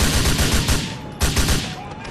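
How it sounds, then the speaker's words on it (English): Rapid shotgun blasts from cops in the video game GTA IV, a quick string of loud booming shots in steady rhythm, then another burst after a short pause. "there's cops hitting me with shotguns."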